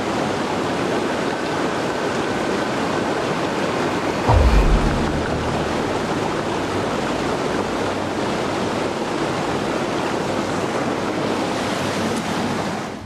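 A river rushing through a misty Scottish forest gives a continuous broadband roar, steady and fairly loud throughout, with a brief low thump partway through and no voices.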